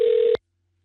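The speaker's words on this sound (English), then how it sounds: "Dialing again." A single steady telephone keypad tone sounds for about a third of a second, then cuts off into silence.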